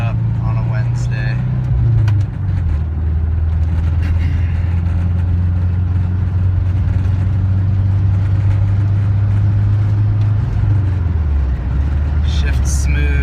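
A 1984 Volkswagen Vanagon Westfalia engine drones steadily while driving around Temple Terrace, Florida, a low continuous hum with a brief pitch shift near two seconds and another around ten, like gear changes, under cabin noise.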